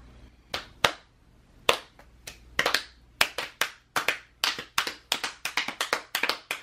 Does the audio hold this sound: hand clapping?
yes